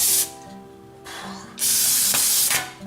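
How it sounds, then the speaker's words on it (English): Brake cleaner sprayed in two long hissing bursts from an aerosol can onto a new clutch part for a 2000 Jeep Wrangler 4.0L, loud and close, with a short pause between bursts. "you're definitely going to want to spray like brake cleaner on it"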